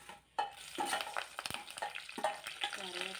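Dry red chilies frying in hot oil for a cucumber coconut chutney tempering, a steady close sizzle with repeated stirring scrapes against the pan.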